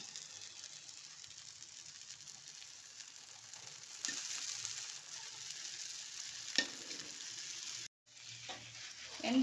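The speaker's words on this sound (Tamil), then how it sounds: "அப்படியே சிம்மில் வச்சு நெய் விட்டு வாக்க வேண்டியதான்." Coconut poli, a wheat-flour flatbread, fries in ghee in a pan on a low flame, giving a steady soft sizzle that swells louder midway, with a brief dropout near the end.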